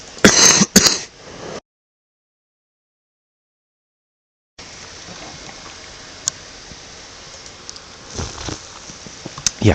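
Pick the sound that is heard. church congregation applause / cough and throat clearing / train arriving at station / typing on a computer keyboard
cough and throat clearing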